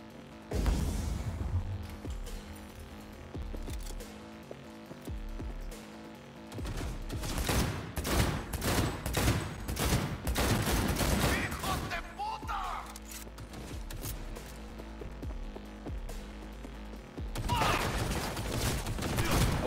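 Rapid automatic pistol fire in Cyberpunk 2077 comes in long, dense bursts separated by brief pauses, loud and close, mixed with other combat noise.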